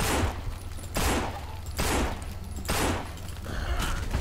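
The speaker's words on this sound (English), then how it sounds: "I can hear you rapidly firing" Bursts of rapid gunfire crack out in NMRiH, four loud close volleys spaced about a second apart, each a sharp blast trailing into a short decay.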